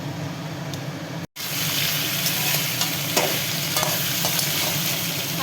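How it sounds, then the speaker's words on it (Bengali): Potato and pumpkin pieces fry in hot oil with cumin and bay leaf, a steady close sizzle with occasional stirring scrapes, continuous apart from a brief cut early on, no talk. "আলু কুমড়োটাকে দিয়ে দিয়েছি, একটু ভাজা ভাজা হতে থাকবে।"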